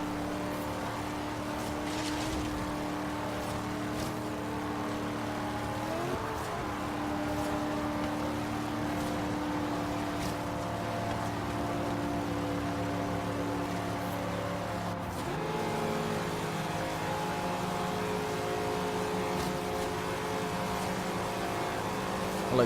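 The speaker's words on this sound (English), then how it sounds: "I was doing almost 170 miles an hour, and the engine was barely turning." A Corvette Z06 in the racing game Forza Horizon 3 cruises at very high speed on a highway, a steady low engine drone held for a long stretch with a couple of shifts in pitch.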